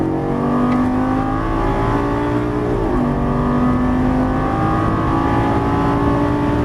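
A Lamborghini Gallardo LP550 on a racetrack gives off a loud, steady engine drone, its tone dipping briefly midway before holding strong again, with no voices.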